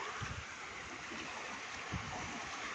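Sutlej river water flowing, a steady broad rushing roar with faint low gurgles, constant and unbroken from start to finish, heard from nearby with no voices.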